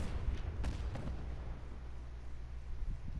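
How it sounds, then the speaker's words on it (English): Explosions in the video game Fallout 4, a few faint, muffled booms and crackling bursts in a row over a low rumbling background, with no talking. "at least these explosions look pretty nice"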